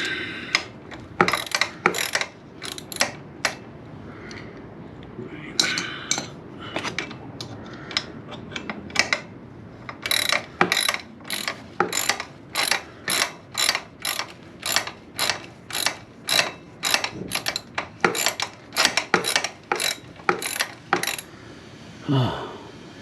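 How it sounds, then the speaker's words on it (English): Rapid clicking of a ratchet wrench tightening a bolt on a Can-Am Ryker three-wheeler, a long run of sharp close metallic clicks with short pauses, speeding into an even steady rhythm toward the end. "let me tighten up this bolt"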